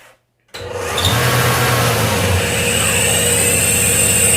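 A car engine starts and runs with a slipping alternator pulley under load, producing a loud, steady mechanical drone with a whining squeal layered on top, sustained throughout after a brief silent moment.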